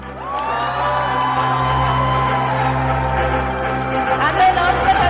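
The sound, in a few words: audience applause and cheering at pageant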